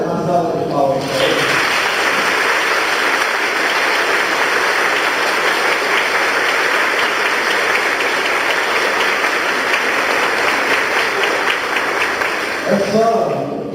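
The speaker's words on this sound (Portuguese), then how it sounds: "Uma salva de palmas." A church congregation breaks into sustained applause after a short stretch of speech. The clapping is loud, dense and close, lasts roughly twelve seconds and gives way to talk again at the end.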